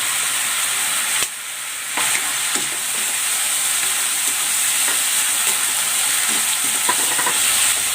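Pork lomo stir-fried with soy sauce, oyster sauce, Knorr seasoning and pepper: a loud, steady sizzle close up with intermittent scraping and stirring clatter throughout, with no talking.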